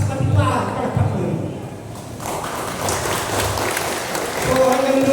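Crowd applause at a political gathering in the Philippines, a broad, steady wash of clapping that swells after a couple of seconds and holds, with talk and thumps mixed in.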